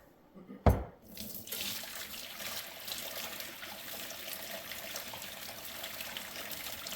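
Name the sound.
pouring water off boiled noodles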